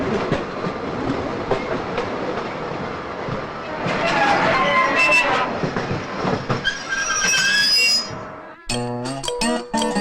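A passenger train runs on rails with a steady rolling rumble and rhythmic clatter, high wheel squeals rising midway, and a sharper series of clanks near the end as voices talk underneath.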